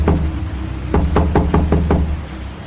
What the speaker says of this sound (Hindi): समर ने जोर जोर से दरवाजे की सांकल को पीटना शुरू किया।